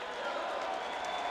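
A football stadium crowd at a Boise State versus San Jose State college game roars in steady protest, wanting a penalty flag for a late hit on the quarterback; a dense, continuous wash of noise, loud and unbroken throughout.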